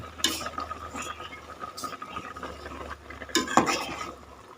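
Thai curry with water clover leaves stirred in a pot with a utensil, giving soft scraping and liquid sloshing in short bursts near and fairly quiet.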